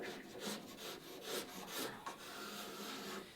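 A sharp painter's scraper is drawn across the wooden sheer of a Catalina Wherry boat, giving repeated rasping strokes in a steady rhythm, close and moderately loud, with no talking.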